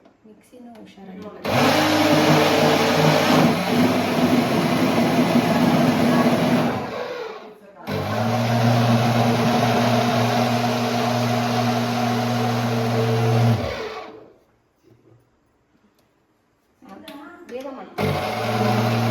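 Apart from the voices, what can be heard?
mixer grinder running in kitchen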